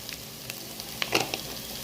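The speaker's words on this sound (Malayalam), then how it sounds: "എല്ലാം കൂടി ഇട്ട് നമുക്കൊന്ന് വഴറ്റാം" Turmeric and garam masala sizzle softly in a hot pan during sautéing for upma, a faint continuous frying hiss with a few light stirring scrapes and clicks, close by and without talking.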